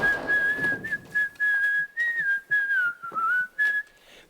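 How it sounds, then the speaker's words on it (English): A person whistles a wavering, sustained melody in short phrases separated by brief pauses, clear and fairly close, with no talking. "One came in whistling."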